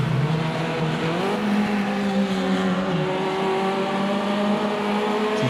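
Race car engine at Silverstone Club circuit, the silver number 4 car, a sustained loud engine whine whose pitch steps up through gears and dips briefly, held close and continuous with no voices.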